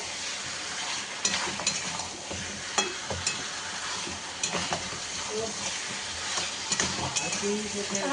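Potatoes stir-fried with meat in a pan, a steady close sizzle with repeated spatula scrapes and stirring, no talk over it.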